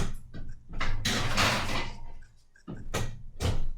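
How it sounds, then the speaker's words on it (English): An oven door is handled during cooking after tikka masala skewers go in, with a run of close thuds, scrapes and clunks and a firm shut near the end, heard loud with no talk. "I'm just going to pop those skewers into the oven"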